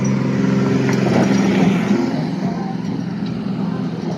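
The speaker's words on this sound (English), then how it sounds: "There's a car coming." A car approaches and passes on a road outdoors, a loud low engine rumble that peaks early and then fades steadily as it moves away.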